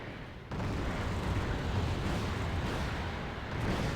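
Missile salvos fire and explode in the wargame Wargame Red Dragon, a sudden heavy burst swelling into a dense, continuous roar of overlapping blasts and rumbling that stays loud to the end.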